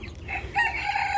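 Four-week-old chickens cluck and warble softly nearby, a short burst of murmuring fowl calls over low background noise.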